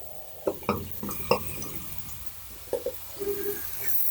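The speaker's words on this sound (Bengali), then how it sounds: "এবার ভালো করে নেড়ে চেড়ে নিচ্ছি।" A spoon stirs spiced mung dal with cauliflower in a pan, giving a few scattered scrapes and clinks against the metal over a faint sizzle, close and quiet.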